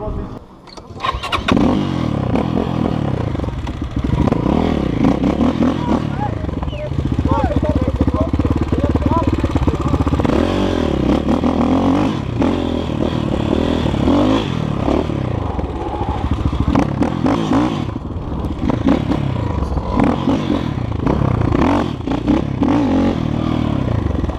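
A motorcycle with a small engine being ridden close by, its engine droning loudly and continuously with shifting revs and some clatter, while voices talk over it.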